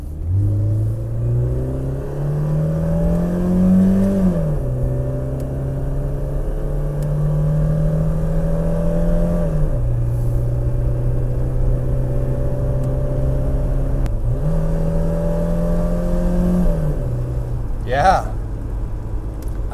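A BMW E30 engine idles steadily at about 850 RPM after a distributor change, a close, even hum that holds for a long stretch with a few slight rises and dips in pitch.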